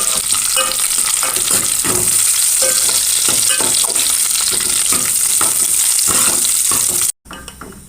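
Cashews and raisins frying in ghee give a loud, steady sizzle with scraping stir sounds throughout, cut by a brief dropout near the end.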